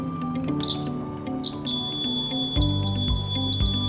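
A DIY kit metal detector passed over a stapler gives off a series of electronic beeps and tones that shift in pitch, close and fairly loud with no talking.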